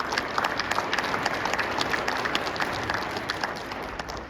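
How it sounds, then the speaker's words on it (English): A lunchtime audience at an agriculture appreciation luncheon applauds steadily for about four seconds, a dense, even roar of many hands that holds its level throughout. "Let's give them another round of applause, please."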